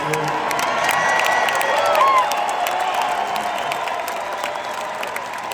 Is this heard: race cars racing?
no